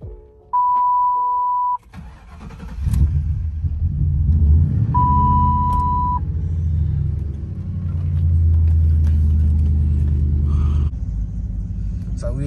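A truck with a 4R70W automatic transmission chimes twice, then its engine cranks and settles into a deep, loud rumble that rises and falls as it pulls away, with people talking now and then.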